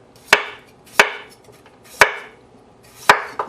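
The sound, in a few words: thin slicing potatoes with a knife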